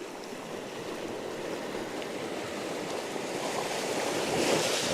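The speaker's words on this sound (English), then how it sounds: "Just wait for a wave." Ocean waves wash onto the shore at Point Vernon, Queensland, a steady rushing surf that swells slightly louder toward the end, with some wind.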